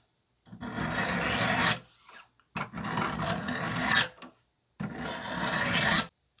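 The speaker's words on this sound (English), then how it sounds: "when you're done with the 200 grit stones, you're going to roll it around and start over with the 600." Knife edge drawn across 600 grit stones on a Wicked Edge WE40 carbon sharpener, three steady rasping strokes each lasting over a second, separated by short pauses, close and clear with no talk.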